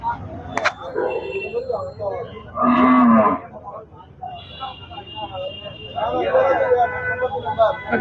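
Cattle moo loudly at a cattle market in Chittagong, one long low call standing out from people chattering and general market hubbub, with more lowing later.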